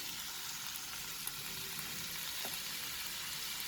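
Vegetable fried rice sizzles steadily in a hot pan as white vinegar and soy sauce go in, a soft continuous frying hiss with faint stirring clicks, close and without talk.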